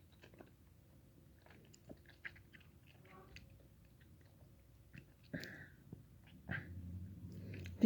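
Someone is chewing Nature's Truth multivitamin gummies close to the mic in a quiet room. Soft, irregular, slightly sticky chewing sounds and mouth noises come with a few louder crunchy bites near the end.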